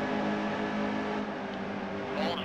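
Race car engine from a NASCAR Heat 2 career race at Pocono, a steady loud droning roar that holds on without a break, with a faint rising whine near the end and no talk.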